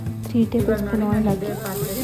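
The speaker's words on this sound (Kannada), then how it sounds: "ಈರುಳ್ಳಿನ ಹಾಕ್ಕೊಂಡು ಫುಲ್ ಬ್ರೌನ್ ಬರೋವರೆಗೂ ಫ್ರೈ ಮಾಡ್ಕೊತಾ ಇದ್ದೀನಿ" Onions fry in a pan for mutton curry, giving a close sizzle under a voice that talks throughout.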